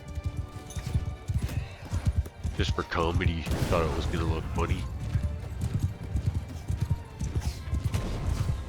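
Horse hooves clip-clop in the battle game Mount & Blade Bannerlord while someone talks over them, with steady low thudding footfalls, a whinny-like cry and scattered combat noise underneath.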